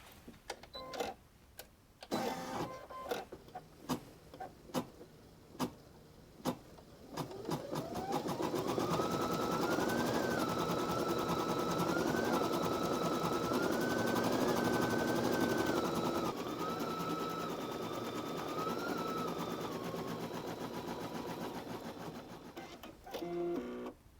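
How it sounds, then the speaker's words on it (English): A Brother embroidery machine with a 5x7 inch magnetic frame stitches out a design, opening with a string of sharp ticks before settling into a steady, fast, whirring needle rhythm that continues evenly to the end. "Go all the way through to the embroidery screen and stitch out your design."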